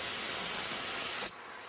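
A conventional spray gun sprays onto wet rosin paper with a loud, steady, close hiss that cuts off sharply near the end, leaving quieter room tone.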